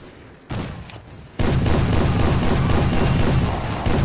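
A Gatling gun fires in Civil War: A Nation Divided, loud and sustained. A short opening burst drops away, then a continuous rapid crackle of shots runs to the end.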